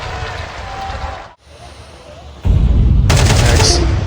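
Pistol gunfire from a Counter-Strike 2 match sounds as loud bursts of rapid shots. A short lull follows, then a second heavy volley with sharp cracks. No speech is heard.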